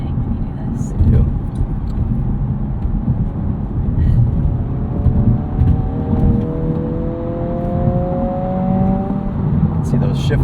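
A 2025 Honda Civic Si accelerates in sport mode while merging onto a highway, its engine note climbing steadily through the gears under road and wind rumble, heard from the cabin amid a brief rising whine.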